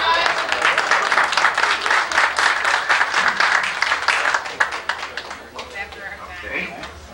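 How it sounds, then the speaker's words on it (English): An IT group audience claps for a nominee during an applause-meter vote, a loud, sustained round of rapid hand claps that thins out toward the end, with voices mixed in. "Let's clap"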